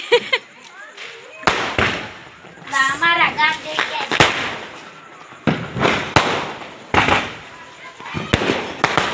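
Diwali fireworks outdoors, with a rocket whooshing up among repeated sharp pops and bangs of varying loudness, some close and some more distant, while people talk and exclaim throughout.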